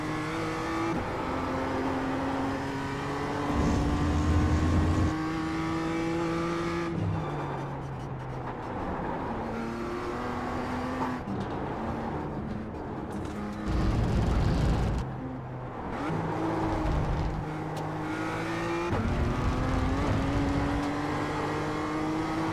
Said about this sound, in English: you can actually hear the car hitting it, which is pretty cool